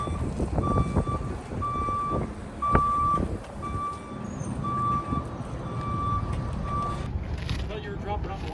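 A forklift backs up in a home garage, its reversing alarm beeping at a steady, repeated pace for about seven seconds over engine noise, with people talking underneath.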